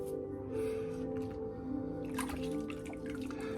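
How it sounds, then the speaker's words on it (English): Water splashes and drips as soap is rinsed off hands during a straight-razor shave, soft wet trickles and a faint squishy patter, quiet and close, with a low steady hum beneath. "you're going to eventually have to rinse your hands"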